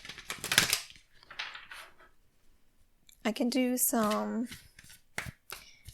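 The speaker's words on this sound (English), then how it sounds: "I'll just shuffle all of them in the beginning" Tarot cards are shuffled in brief papery riffles near the start. A voice then talks over the rest, and the shuffling is soft and intermittent beneath her speech.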